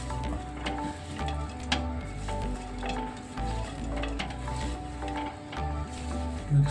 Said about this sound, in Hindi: धनिया डाल के अच्छे से मिक्स कर देंगे इसको